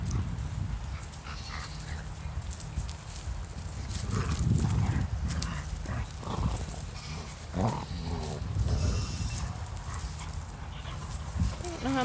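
Baby goats bleat in the distance, faint and intermittent over a steady outdoor background, with a person talking throughout.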